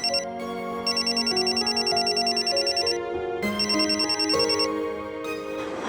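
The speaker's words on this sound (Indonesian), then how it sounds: "Put, Mama angkat telepon dulu ya." A telephone rings with a repeating electronic melodic ringtone, loud and steady in bursts with short pauses, and no talking over it.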